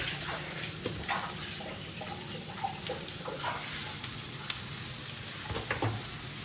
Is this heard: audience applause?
no